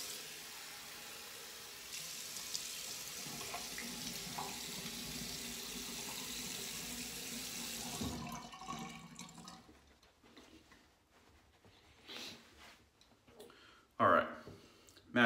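Bathroom tap running steadily while someone rinses off after a shave, close and continuous for about eight seconds, followed by a few softer splashes and a brief louder burst of water.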